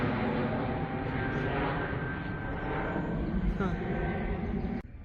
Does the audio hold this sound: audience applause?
no